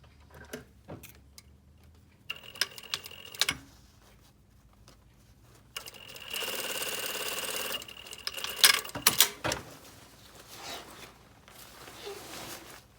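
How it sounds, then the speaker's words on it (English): A sewing machine stitches a half-inch seam in a leather jacket during tailoring, running in short bursts with a longer steady stretch in the middle, separated by quiet pauses and light handling clicks. "we're sewing a 1/2 inch seam allowance"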